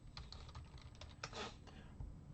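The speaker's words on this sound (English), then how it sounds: "I'm not sure which one, so I'm just typing in general" Rapid typing on a computer keyboard, a quick irregular run of light key clicks with one brief louder burst of keystrokes, fairly quiet and close.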